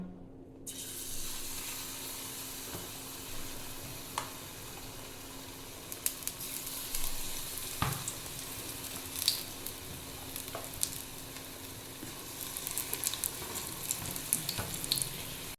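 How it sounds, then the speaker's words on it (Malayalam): Batter-coated sweet potato pieces frying in hot oil, a steady close sizzle with occasional louder pops and crackles as pieces go in, no voices. "ഇത് ഫ്രൈ ചെയ്യാൻ വേണ്ടി ഞാനിവിടെ എണ്ണ ചൂടാക്കി എടുത്തിട്ടുണ്ട് ഇനി ഇത് ഓരോന്നായി ഇട്ട് കൊടുക്കാം"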